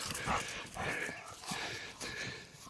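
A dog being trained on a tricolour pig gives bursts of excited barking and panting, somewhat distant and faint, in uneven rhythm.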